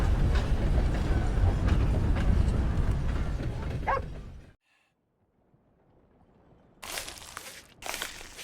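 A steam train rumbles loudly past in Red Dead Redemption 2, a dense, continuous roar that cuts off abruptly, followed by quiet and then a couple of short loud bursts.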